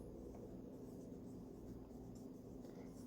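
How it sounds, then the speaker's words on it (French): Faint pen scratching on a plastic plant label while marking it for cosmos seeds, soft and close against a low, steady background hum. "je viens juste écrire dessus un cosmos"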